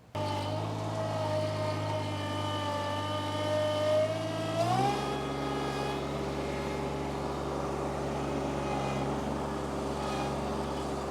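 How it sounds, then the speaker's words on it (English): A tractor's transmission whines in high gear while grading a field, a steady droning tone under engine noise that climbs in pitch midway and holds there, continuous and close. "I've been in high gear this whole time. That's why you've heard so much whining."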